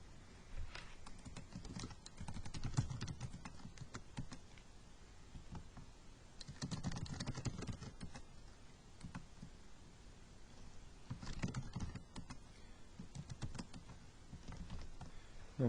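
Keystrokes on a computer keyboard entering data into a Microsoft Access table, arriving as bursts of quick clicks that pause in between and then start again, close by and fairly quiet, with no voice.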